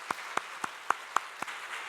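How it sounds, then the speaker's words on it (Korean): A small church congregation at a dawn prayer service claps in a sparse, quiet rhythm, about six soft claps spaced evenly over two seconds. "우리 박수로 축복합니다."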